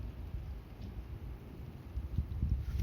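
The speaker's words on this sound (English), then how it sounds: "Big gust of wind." A big gust of wind sweeps through a small UK blizzard as snow turns to sleet, a low, blustery rumble that surges and swells toward the end, with no talking.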